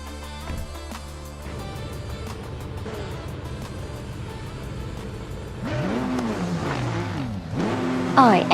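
Race cars in an AI racing video game, including a 2016 Porsche 919 Hybrid, rev and whine in steady engine tones. Rising and falling pitch sweeps follow as the cars accelerate and pass near the end.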